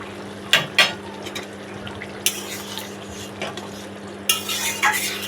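Cumin paste is stirred and sautéed in a pan for a rita fish curry. Repeated metal spatula scrapes and clinks ring over a low, steady frying hiss.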